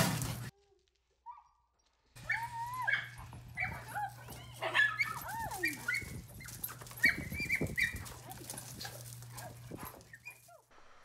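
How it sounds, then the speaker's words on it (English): A small dog yaps and whines repeatedly in short, high-pitched bursts over a low steady hum, fairly close. "If you can't tell which dog is the yappy one"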